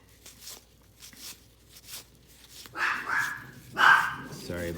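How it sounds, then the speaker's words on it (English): Dogs barking indoors, a few sharp barks spaced apart and growing louder toward the end, with some yips, heard near and alone without talk. "Sorry about the dogs."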